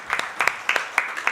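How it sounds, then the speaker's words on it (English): An audience claps for a speaker at a talk on a Bhagavad Gita verse, a short burst of scattered hand claps with about five distinct peaks, fairly close and moderately loud. "Let's give him a little clap."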